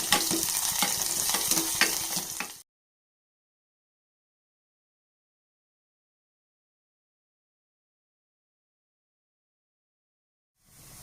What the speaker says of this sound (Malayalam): ഇനി ഇതിലേക്ക് ഞാൻ 3 ചെറിയുള്ളി എടുത്ത് ഇതേപോലെ കട്ട് ചെയ്തതാണ്, ഇത് ചേർത്ത് കൊടുക്കുക. ഇതൊന്ന് വഴറ്റിയെടുക്കുക